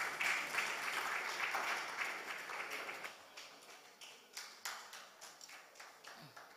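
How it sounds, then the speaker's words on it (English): Audience applause for a panel at a health journalism close-out event in Nigeria, a fairly quiet, distant wash of clapping that thins out into a few scattered individual claps. "Please, a round of applause for this panel."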